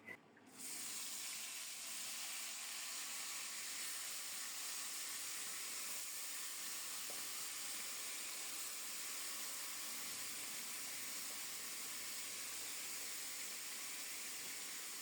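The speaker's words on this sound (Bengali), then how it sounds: "লবণ হলুদ মাখিয়ে গরম তেলে ছেড়ে দেব" A rohu fish head coated in salt and turmeric frying in hot oil, giving a steady loud hiss and sizzle that starts abruptly and holds unbroken throughout.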